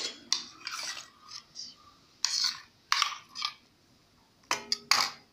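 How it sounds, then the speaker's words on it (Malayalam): Mango blended to a pulp is added to puttu flour in a kitchen, giving a handful of close, sharp clinks and scrapes of a utensil against a bowl, scattered in short bursts with quiet gaps between. "പുട്ടുപൊടിയിലേക്ക് നമ്മളെ മാങ്ങ അടിച്ചെടുത്തത് ചേർത്ത് കൊടുക്കാം."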